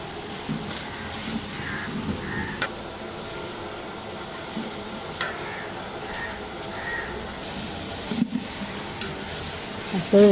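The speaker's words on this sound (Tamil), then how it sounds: "வெங்காயம் நல்லா பொண்ணு நிறத்தில் வர வரைக்கும் வதக்கணும்" Onions with green chillies and bay leaf sauté in refined oil for a large 8 kg wedding-style chicken biryani, a steady low sizzle with occasional stirring scrapes throughout.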